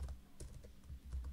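Quiet typing on a computer keyboard: a quick, uneven series of soft, close clicks from individual keystrokes, heard alone.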